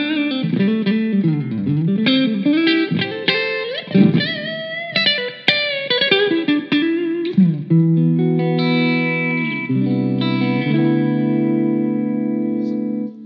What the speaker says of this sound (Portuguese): colocando um pouquinho de reverb aqui, só para você dar uma sacada nesse limpo aqui